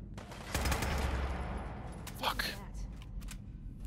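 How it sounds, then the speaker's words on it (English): Gunshots in a zombie survival video game, a rattling fusillade of rapid shots at moderate distance, with a sharper crack midway. "This guy's shooting."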